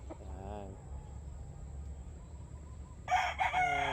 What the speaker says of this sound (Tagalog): Yung pangalawang tilaok mo na yan.